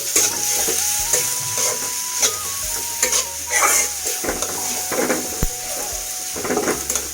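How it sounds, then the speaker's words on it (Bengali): Sliced onions fry in hot oil with cardamom, cinnamon, cloves and bay leaf, giving a continuous close sizzle under repeated clattering stirs and scrapes of a spoon against the pot. "এলাচ, দারচিনি, লং কয়টা, তেজপাতা দিয়ে আমি পেঁয়াজটা ভাজতে নিব একটু।"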